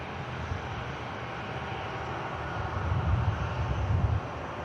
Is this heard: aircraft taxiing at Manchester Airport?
yes